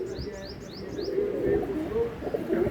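Fancy pigeons, Teddy, Golden, Paras and Firozpuri breeds, cooing up close, with a run of quick high chirps at first over a low, continuous murmuring coo.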